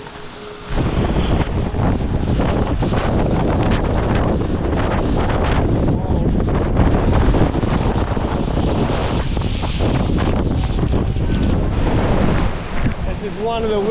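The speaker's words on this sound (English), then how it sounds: "This is one of the windiest waterfalls I've ever stood on in my life." Strong gusting wind at Horsetail Falls in Tasmania roars across the microphone almost continuously, loud and close, with a faint voice underneath.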